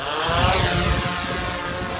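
A camera drone's propellers spin up and whir steadily at close range as it lifts off from a hand aboard a boat, a dense continuous buzz with wind and engine rumble beneath, no talking.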